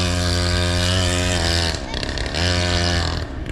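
A small nitro-engine RC quad, a Traxxas XRT, runs in a sandpit, its engine buzzing loud and steady with a rich harmonic whine, briefly dipping and easing off before revving back up near the microphone.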